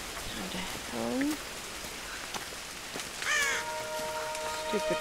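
A crow caws twice in the Tomb Raider video game, each call a short harsh burst standing over a steady wash of falling rain, with a few other faint bird-like calls mixed into the ambience.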